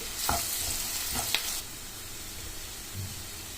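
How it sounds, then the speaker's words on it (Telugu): Curry in a pan with turmeric and salt sizzles softly while a spoon stirs it, with a few sharp scrapes early on, then fainter steady frying, close by and without talk. "కొద్దిగా పసుపు ఉప్పు వేసుకున్న తర్వాత కలుపుకోవాలి"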